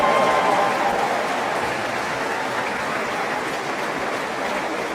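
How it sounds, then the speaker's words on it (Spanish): Sustained applause from a gathered church audience, a dense even wash of clapping that fills the whole stretch at steady loudness, tapering only slightly toward the end. "Un aplauso pues, para él."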